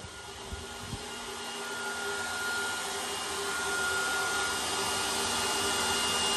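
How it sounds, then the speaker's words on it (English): Hot hair dryer blowing on an 8-week-old Schnauzer puppy during grooming, a loud, steady, close roar of rushing air with a faint motor whine, swelling slightly in level and running continuously with no talking. "the dryer, the hot dryer, blowing on him"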